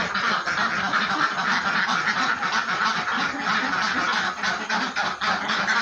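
A flock of bebek bayah ducks quack continuously in a dry coop, overlapping calls forming a dense, steady chorus close by, with no talking.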